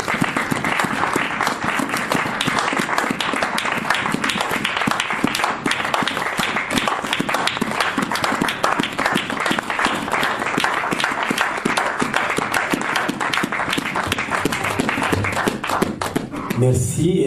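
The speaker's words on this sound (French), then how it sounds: "Applaudissez la parole de Dieu." A church congregation applauds during a French and English preaching service, sustained dense clapping filling the room evenly and fading out at the very end.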